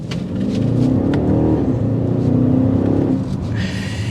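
A 2023 BMW X5 M50i's twin-turbo V8 revs and accelerates hard in sport mode, a loud sustained roar with rising pitch, close up, ending in a higher whine.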